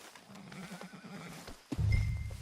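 A horse whinnies close by in the video game Red Dead Redemption 2, then a louder snort and blowing breath follow, with no one talking.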